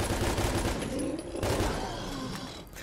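Heavy-recoil gun in Fallout 4 firing in a rapid, dense burst, loud booming shots blending into a continuous roar with brief dips.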